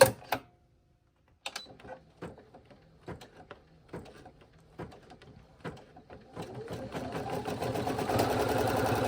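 An embroidery machine stitching gold thread onto a denim jacket, starting with a few spaced mechanical clicks and thumps, then building into a steady, close, rapid whirring stitch rhythm.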